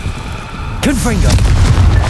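A Confringo fire spell blasts in Hogwarts Legacy, a single loud boom bursting in sharply and trailing off into a rumbling, crackling roar.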